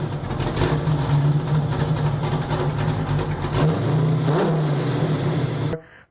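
A Chevrolet Corvette with a 5.7 liter LT1 engine running nearby, a deep steady rumble with a rev rising and falling near the end before it cuts off.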